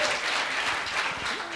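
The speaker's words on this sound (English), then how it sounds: "we deserve that round of applause" Comedy club audience breaking into a brief round of clapping, a steady wash of applause with faint voices underneath.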